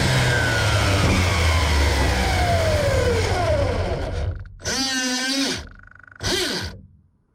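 An LRP S10 Blast TC radio-controlled touring car with 3D-printed gears makes a speed run: a loud, steady electric drive whine with pitch sweeps, then two brief, sharp high-pitched revving bursts close to the listener.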